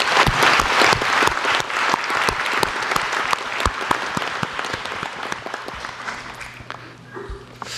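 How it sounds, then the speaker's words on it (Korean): Audience applause at a Korean presidential public report gathering in Daejeon, sharp individual claps standing out close by within a large crowd's sustained clapping, gradually thinning toward the end. "박수 한번 부탁드립니다."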